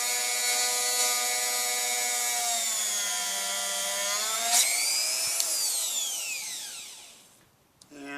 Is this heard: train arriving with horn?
no